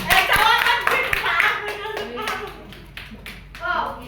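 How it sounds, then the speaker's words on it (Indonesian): Hand clapping from students in a classroom during a teaching practice lesson, a quick burst of claps with children's voices chattering around it. "Tepuk tangan dulu Rianti."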